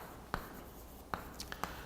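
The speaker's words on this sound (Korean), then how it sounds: "자, 한번 써볼게요." Faint, sparse taps and short scratchy strokes of writing on a classroom board during an English grammar lecture, a few isolated marks spaced across a quiet background with no talking.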